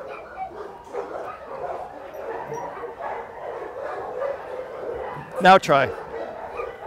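A dog, worked up by another dog during leash-pulling training, gives soft whimpers and yips, then a sharp burst of two or three close barks near the end. A trainer talks quietly throughout.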